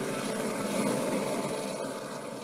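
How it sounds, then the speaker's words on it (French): A SkyTEM survey helicopter sets down, its steady rotor and engine roar loud and continuous throughout, with no talking over it. "À peine l'hélicoptère posé, Émile regarde"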